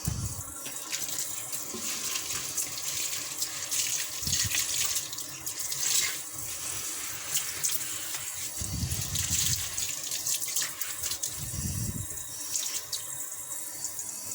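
Tap water runs steadily while Dent Mit cleaning cream is rinsed off a kitchen or bathroom surface, with louder gushes and splashes coming in short bursts over a continuous hiss.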